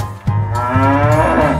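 A cow lets out a single long, loud moo up close that holds steady, then rises and wavers toward the end, with nothing else heard.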